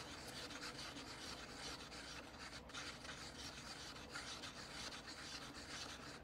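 Plaster and water mixture being stirred makes a continuous, faint scraping and rubbing sound, even and unbroken throughout with no voices.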